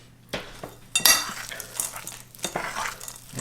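A spoon scrapes and clinks against a bowl as Lily's unsweetened chocolate chips get mixed into keto almond cookie dough, with several sharp clatters and uneven, close stirring strokes and no voices.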